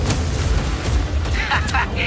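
Cannon fire in the Just Cause 4 video game on PS5: deep booming blasts blend into a dense, continuous battle mix, with brief higher crackles near the end and no clear talk.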